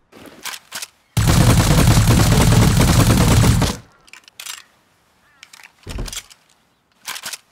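Gunfire rings out in the survival game Rust: a loud burst of rapid automatic fire lasting about two and a half seconds, followed by a few scattered single shots and distant cracks.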